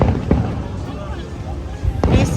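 Fireworks bursting over the beach road in Pattaya, scattered booms and crackles over a steady crowd murmur, with a louder burst near the end and a voice talking nearby.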